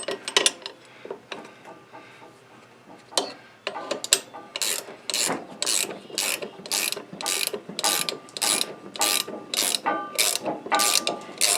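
A ratchet wrench snugs down a steering nut on a John Deere L, LA or D series riding mower, its rapid clicking pawl coming in quick bursts that grow steadier and louder toward the end, with no talking.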